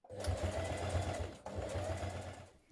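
A sewing machine runs two quick bursts of top stitching along a dungarees pocket edge, its rapid rhythmic needle chatter close and steady, with a brief pause between runs.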